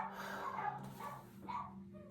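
Dogs bark and yip close by in a short run of several barks over a steady background hum, heard indoors while hair is being styled.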